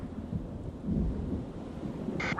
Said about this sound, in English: you were hit by lightning